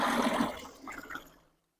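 Water poured from a full pot into a large batch of homemade fabric conditioner mixture, a loud splashing gush that fades out after about a second and a half.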